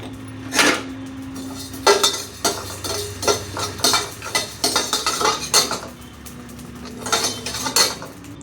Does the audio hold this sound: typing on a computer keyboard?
no